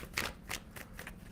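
Tarot cards shuffled by hand in a few quick, close riffling bursts, each a short papery flutter, with no voices.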